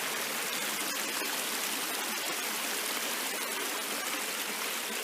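Stream water pours over a small man-made weir of wooden logs in the woods, making a steady, close rushing and splashing that stays even throughout.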